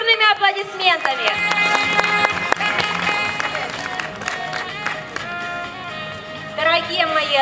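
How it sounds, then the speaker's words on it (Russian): Audience applause at an outdoor village day celebration in Yutanovka, a continuous wash of clapping under loud music with an amplified voice over it. "Поддерживаем бурными-бурными аплодисментами."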